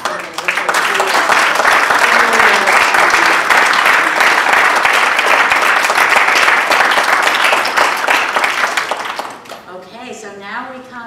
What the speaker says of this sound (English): I would just like to have us all give a round of applause